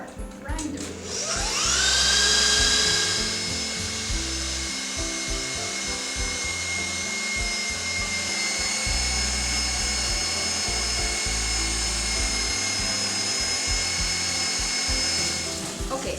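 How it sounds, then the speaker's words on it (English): A grinder whirring steadily as a mixture of rice, flax and pistachios is fed in, close and loud, spinning up at the start and then grinding continuously with rumbling, uneven chunky texture underneath. "we're going to start adding the mixture of rice, flax, and pistachios to our grinder"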